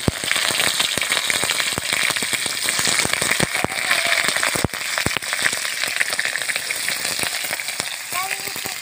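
Paneer pieces fry in hot oil with a dense, crackling sizzle full of sharp pops and spits, loud and close, running steadily throughout.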